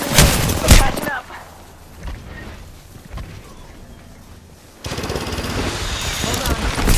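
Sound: gunfire in video game Apex Legends

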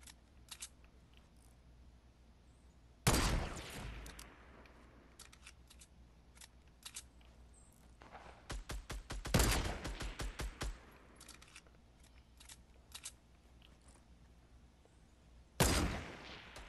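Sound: players fighting with gunfire in video game Fortnite

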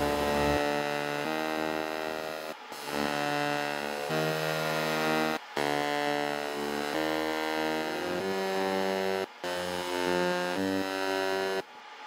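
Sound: EM Smart laser engraver engraving a test grid on mild steel

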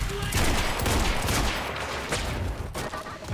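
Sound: sniper rifle gunfire in video game Quantum Break

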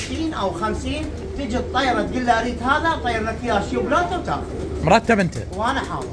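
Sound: pigeons cooing at a Baghdad bird market

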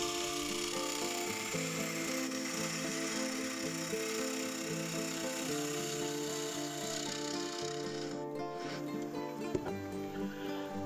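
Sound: wood turning on a lathe with a half-inch bore gouge

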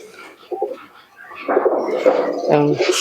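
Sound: teddy pigeons cooing

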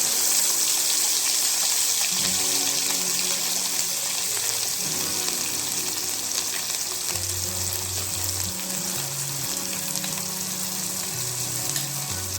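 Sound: ground masala paste sizzling in hot oil for shellfish curry

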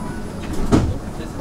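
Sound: train doors closing

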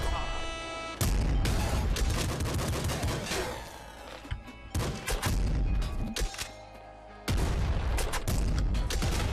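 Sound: explosion in the Nuclear Throne video game

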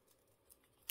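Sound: scissors cutting a paper tag

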